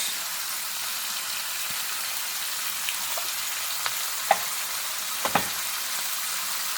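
Meatballs sizzle steadily in a hot pan as tomato sauce goes in for Filipino sweet and sour bola-bola, a constant close frying hiss broken by a few soft stirring clicks and taps.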